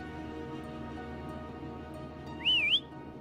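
A single short rising-and-falling whistle near the end, made to call a creature in the video game Wuthering Waves, over a quiet, steady game ambience.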